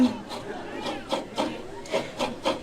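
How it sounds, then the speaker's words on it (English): A coconut shell is turned and scraped against a grater in rhythmic rasping strokes, about eight close scrapes in a steady pattern, at a Samoan show at the Polynesian Cultural Centre. "Now make sure you keep rotating the shell so you have an even shredding process"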